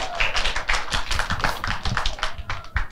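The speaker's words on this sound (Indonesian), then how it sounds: "Boleh tepuk tangan ya?" Audience at the youth event Pesta Muda Bersuara breaks into dense applause, many hands clapping steadily and close for the full stretch with no talk over it.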